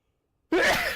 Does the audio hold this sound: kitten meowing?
no